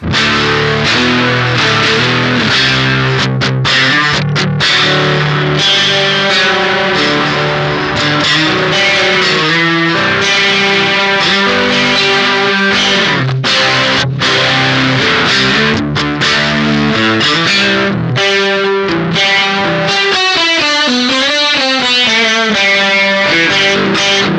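Distorted electric guitar through an Old Blood Noise Endeavors Beam Splitter pedal with heavy effects plays a continuous, dense passage of chords and notes, loud and unbroken throughout.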